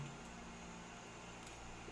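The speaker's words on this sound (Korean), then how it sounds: "선풍기 소리가 너무 심하네." An electric fan runs close to the microphone with a steady, even broadband whoosh and low hum throughout, no voices over it.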